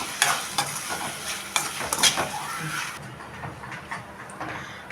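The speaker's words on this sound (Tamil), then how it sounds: "இதையும் போட்டு ஒரு நல்லா வதக்கிட்டு இதை அரைச்சிக்கணும்" Ingredients for chana gravy, including chickpeas, sautéing in a pan, a loud sizzle punctuated by frequent quick spatula scrapes and clicks, easing off toward the end.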